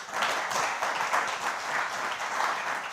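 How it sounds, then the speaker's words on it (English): A conference audience applauds a programmer taking the stage, a short, even burst of many hands clapping at moderate loudness with no talk. "I haven't done anything yet, and I get applause"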